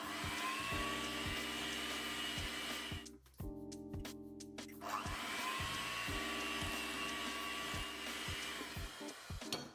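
An electric mixer runs on low speed beating eggs into cake batter, a steady whirring motor hum with a brief pause in the middle, close and continuous.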